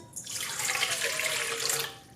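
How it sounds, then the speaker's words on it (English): Warm water poured from a cup into the bowl of a Cuisinart SM-50BC stand mixer for pizza dough, a steady splashing pour lasting about two seconds, close and clear with no talk. "Pour in 1 cup of warm water."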